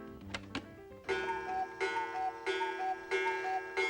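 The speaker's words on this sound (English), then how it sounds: "That's the sound of a clock." Clock recorded for a guessing game, ticking in a steady repeated pattern with bright metallic tones, close and clear, with no talk.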